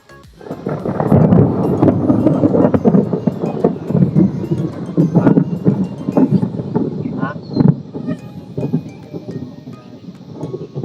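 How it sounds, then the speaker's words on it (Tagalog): Loud, heavy rumbling thunder during a rainy outing fishing, rolling booms for several seconds with wind buffeting the microphone and rain beneath. "narinig nyo yun? Malakas yung kulog, no?"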